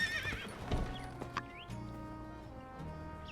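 A horse in the game My Time at Sandrock neighs close by and its hooves clop briefly, all within a few seconds and with no talk.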